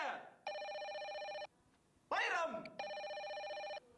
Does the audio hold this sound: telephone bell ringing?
yes